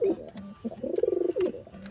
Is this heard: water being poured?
no